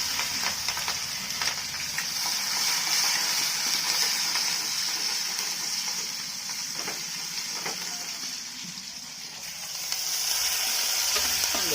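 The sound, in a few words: frying and stirring tomato, onion and chili mixture for mung curry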